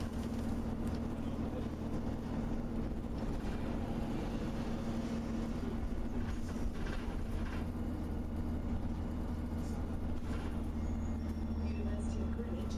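A bus engine running steadily in fifth gear with the clutch locked, a constant low drone and hum filling the cabin, with faint speech over it.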